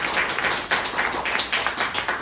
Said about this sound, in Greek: Θα ήθελα ένα χειροκρότημα για αυτούς που κοπιάζουν για να είμαστε εμείς μέσα.